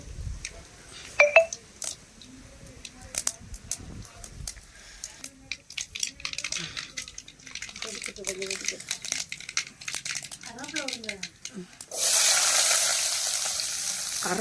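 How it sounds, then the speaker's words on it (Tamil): Mustard seeds sputtering in hot oil in a pan on a stove, with crackles and pops over a background of faint voices and clatter, ending in a loud, steady hiss. "சட்டி அடுப்பில் வச்சு வறுவல் செய்ய போகிறாங்க எண்ணெய் ஊற்றியாச்சு கடுகு போட்டாச்சு"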